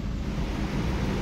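Rimbi waterfall, a steady broadband roar of rushing water, dense and constant, with no voices.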